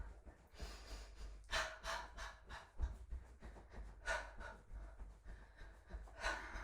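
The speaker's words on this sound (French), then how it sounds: "Lâchez le souffle." Breaths exhaled during a winter breathing and energy exercise, several audible airy breaths and gasps at irregular intervals, close to the microphone with soft low room rumble.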